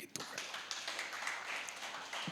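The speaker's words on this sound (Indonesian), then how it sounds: "Kasih tepuk tangan bagi Tuhan." A church congregation applauding during a worship service, a dense, steady patter of many hands clapping up close, with a brief louder tap near the start and the end.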